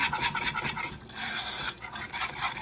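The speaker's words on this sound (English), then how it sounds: "you want to cook this, keep whisking as it's going" Chicken corn chowder being whisked in a pot over a low flame, a steady scraping, rasping swish that runs continuously with brief dips, up close and without any talk.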